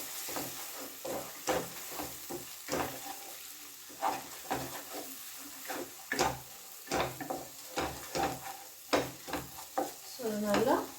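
Two eggs sizzle in a pan for street-style fried rice as a spatula stirs and spreads them. Scraping strokes land close and intermittent over a soft, continuous frying hiss.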